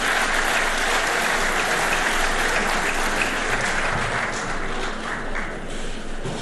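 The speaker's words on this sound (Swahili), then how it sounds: "Tuwapigie makofi hao wadosi jamani." An audience at a government digital services launch at KICC in Nairobi breaking into applause for young Kenyan developers, a full, steady round of clapping that carries on for several seconds.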